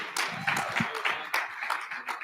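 A conference audience claps for a man called up on stage, a moderate, uneven round of applause with irregular hand claps over a couple of seconds.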